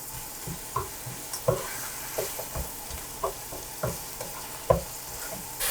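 Minced meat fries in a pan for vawishka while a utensil stirs it, giving a steady sizzle punctuated by regular scraping knocks about every half second.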